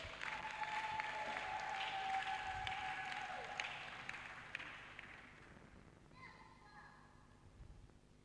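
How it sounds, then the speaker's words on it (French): Church congregation applauding and acclaiming the Lord, a sustained wash of clapping and cheering that slowly fades away. "Acclamons un peu le Seigneur."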